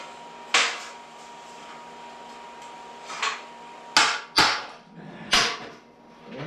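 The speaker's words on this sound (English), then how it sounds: "Now, I need to hammer that flat because it's pulled up." Hammer blows flattening pulled-up metal on a Ford Model A subrail, five sharp metallic strikes spaced irregularly, close and loud against a quiet workshop hum.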